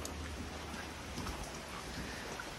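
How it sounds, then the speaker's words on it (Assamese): Steady rain falling outdoors in Sivasagar, Assam, an even, hissing wash of drops that stays constant throughout with no voices. "বৰষুণ পূৰা চিপকৈ দি আছে"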